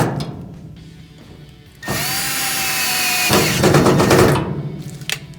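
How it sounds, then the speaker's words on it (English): A power driver whirs in short bursts, backing out the gas valve coil screws on a Kenmore gas dryer that is not drying. The motor sound is close and loud, with a pause between runs. "We're going to use our Phillips head screwdriver."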